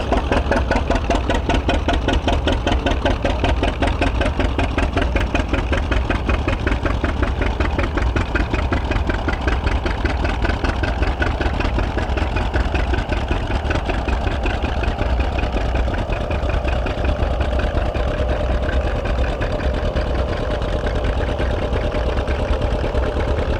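A John Deere tractor idles at a plow day with a steady, close diesel chug and a rhythmic knock. It keeps going at the same level for the whole stretch, and nobody speaks.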